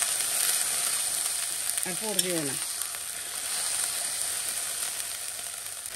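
Spice paste of ginger and ground spices frying in a pan with a splash of water for a fish curry, a steady soft sizzle throughout, with a brief spoken phrase in the middle.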